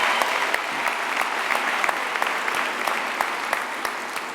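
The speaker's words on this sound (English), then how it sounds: "give them a deserved and a rousing round of applause for a job well done" A graduation ceremony audience in Qwaqwa gives a rousing round of applause, a dense, sustained clatter of many hands clapping at once that holds steady from start to finish.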